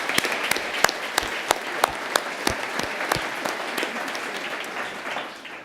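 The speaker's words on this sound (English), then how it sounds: "A round of applause, please, for everybody who participated." An audience claps steadily with a few sharp individual claps standing out, the applause gradually thinning toward the end.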